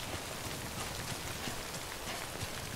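Steady rain falls in the video game Death Stranding, a dense, even hiss of drops hitting surfaces that runs unbroken and fairly loud throughout, with no voices.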